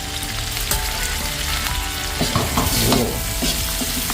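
Large mussels and oysters cook in a big wok, a loud steady sizzle and crackle with scraping stirs and clattering shells, close and continuous without talk.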